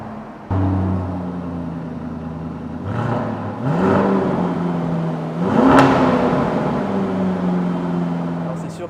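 A Lamborghini Urus V8 fires up with a sharp starter bite and a loud rev flare, then settles into a steady, deep idle with a second throttle blip partway through, close and prominent.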